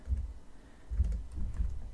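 Typing on a computer keyboard while entering spreadsheet data, two short bursts of soft, close key clicks separated by a brief pause.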